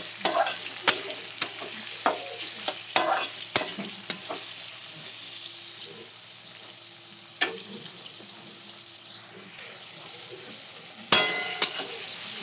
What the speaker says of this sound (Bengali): দুটো মিডিয়াম সাইজের টমেটো, আর দিয়ে দেব পাকা কাঁচা লঙ্কা 4টে। এবার আমি এগুলোকেও ভালো করে ভেজে নেব।